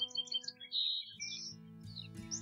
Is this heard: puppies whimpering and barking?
no